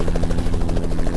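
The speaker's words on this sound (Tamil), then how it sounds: "ஹெலிகாப்டர் பயங்கர ஸ்பீடு தான்." A helicopter in a video game flies at high speed, its steady rotor chop pulsing evenly and loudly throughout with a continuous engine buzz underneath, no voices present.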